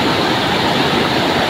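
A waterfall roars in a dense, unbroken rush of white water, loud and close, with no voices over it.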